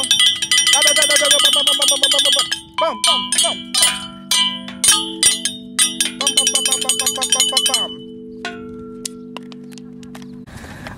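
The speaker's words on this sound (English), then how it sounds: "Let's do some bells." Bells ringing in a rapid run of bright metallic strikes with long ringing tones, fading into a few sparse dings toward the end.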